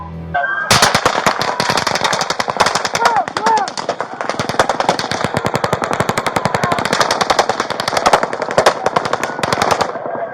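Rapid gunfire from police bodycam footage of an officer being shot, dense bursts of sharp cracks running almost continuously for about ten seconds, loud and close, with shouting voices mixed in.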